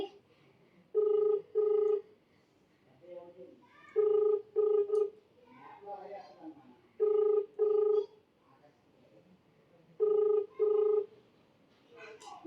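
A phone rings in repeated double bursts, four paired rings spaced evenly, going unanswered, with soft murmuring in the gaps between them.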